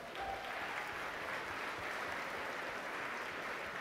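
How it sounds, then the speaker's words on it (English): Conference audience applause at a health presentation, a steady wash of many hands clapping throughout, even and sustained at a moderate distance. "Everybody give themselves a round of applause."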